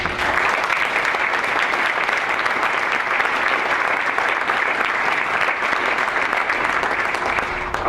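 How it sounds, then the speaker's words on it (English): Attendees at a 2014 SCPGA summer meeting give sustained applause for sponsors, an even, loud roar of many hands clapping nonstop with no break or voices standing out. "let's give a round of applause to our entire sponsor support for the entire year"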